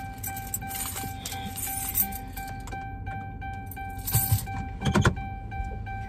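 A parked car gives off a faint, steady electronic warning tone that holds for several seconds, with soft rustling and handling noises and a brief clatter near the end.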